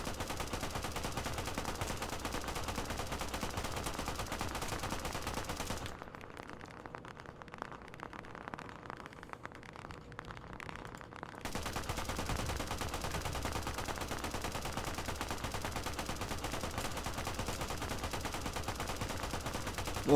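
Dense gunfire in a WWII shooter game on Omaha Beach, with rapid crackling bursts filling the scene, fading out for several seconds, then the steady rattle returning.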